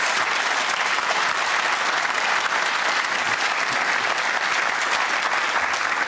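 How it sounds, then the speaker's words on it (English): A large television studio audience gives a loud, steady round of applause, a continuous wash of clapping that fills the room. "I think the size of that round of applause would indicate quite how much interest is in this subject."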